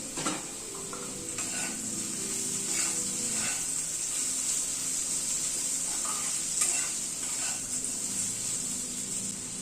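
Potatoes fry in a pan over a medium gas flame, a steady sizzle running throughout with occasional soft stirring scrapes and light clinks near the start.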